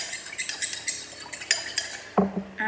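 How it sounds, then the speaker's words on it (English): A whisk beats squeezy garlic puree around a bowl for a marinade, giving a quick run of rhythmic metallic scrapes and clinks, close and fairly loud, with a few sharper knocks near the end. "all I do is whisk that round."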